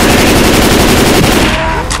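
Rapid automatic gunfire in Left 4 Dead 2, loud and dense, a continuous rattling burst of shots that fades slightly toward the end, with no talk over it.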